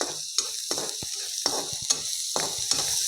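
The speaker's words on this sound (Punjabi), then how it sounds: "ਪਿਆਜ਼ ਨੂੰ ਵੀ ਆਪਾਂ ਹਲਕਾ ਜਿਹਾ ਭੁੰਨਣਾਗਾ" Finely chopped onion is lightly fried in a pan on a gas stove, with rhythmic spatula scrapes every half second or so over a constant close sizzle.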